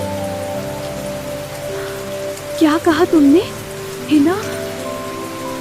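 Steady rain falls continuously, with a constant hiss and faint patter under a voice speaking a few words.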